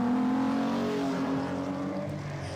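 A race car on a track sweeping past at speed, its engine note rising and falling through gear changes, fairly loud and steady throughout with no talk over it.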